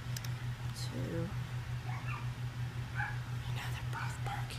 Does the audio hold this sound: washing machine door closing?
no